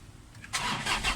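A 2007 Toyota Hilux diesel engine cranks briefly, then catches and settles into a loud, steady rumble at close range.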